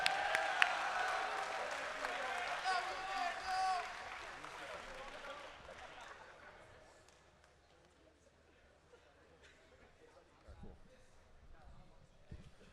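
Crowd applause at an American Legion Boys' State assembly in New York, loud at first and then fading over several seconds into quieter room noise.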